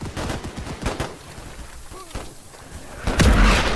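Mortar fire in Holdfast: Frontlines WW1 comes as a run of sharp thumping shots early on, then a heavier, louder blast near the end over a rumbling battlefield.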